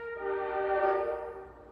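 A passing train sounds a long steady horn, a loud sustained chordal blast lasting over a second that swells then slowly fades as it moves on.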